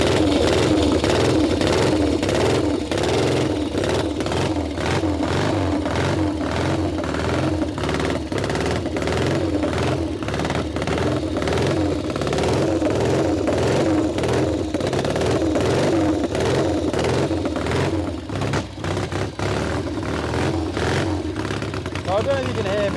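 A loud motorbike engine runs and warms up after a kick start, a steady, close, rough rumble with rapid clatter throughout, someone talking over it.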